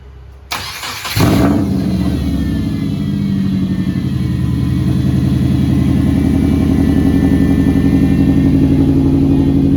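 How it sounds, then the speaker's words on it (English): A Subaru fitted with an engine bought on eBay starts for the first time: a brief cranking, then the engine catches and settles into a loud, steady idle close by. "First startup."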